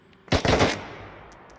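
A rapid, loud burst of automatic gunfire rattles out during a firefight in the video game Forever War, a few overlapping volleys then a decaying echo tail.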